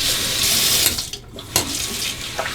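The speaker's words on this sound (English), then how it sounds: "A final rinse off." Tap water runs steadily into a sink as a face is rinsed after a shave with a straight razor and Williams mug shaving soap. The close, continuous splashing flow shifts briefly as hands move through the stream.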